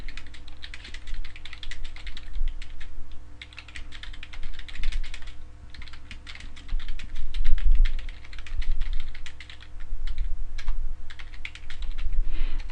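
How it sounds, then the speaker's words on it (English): Typing on a computer keyboard while writing a Facebook post, rapid close key clatter in bursts with short pauses, over a low steady hum. "just type something in"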